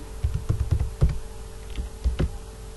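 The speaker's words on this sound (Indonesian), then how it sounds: "Bapak Ibu ketikkan JOIN, join 1 pada bagian kiri" Typing on a computer keyboard, a quick run of close, soft key taps followed by a few scattered presses, over faint room hum.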